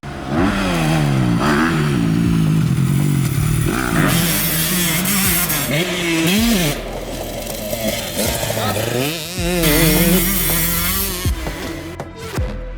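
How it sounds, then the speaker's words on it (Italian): A motocross motorcycle engine revs up and down repeatedly through a jump and a turn, rising and falling in pitch as it accelerates and backs off, loud and close with some wind noise. "mentre Andre gira e ci fa vedere un salto e una curva, e ascoltiamo il motore che cosa fa"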